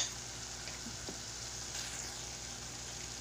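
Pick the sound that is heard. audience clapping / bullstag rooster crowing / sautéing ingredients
sautéing ingredients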